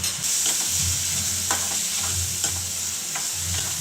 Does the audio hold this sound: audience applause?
no